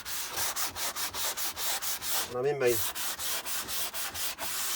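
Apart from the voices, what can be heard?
sanding block sanding edges of MDF panel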